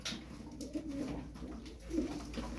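Tumbler pigeons cooing softly nearby, a few low throaty coos rising and falling over faint background noise.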